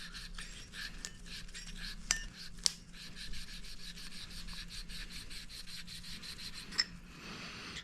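Steady rhythmic rasping strokes of hand sanding or lapping a Vespa smallframe engine part for a Woodruff key fit, close and fairly quiet, with a few sharp metallic clicks along the way.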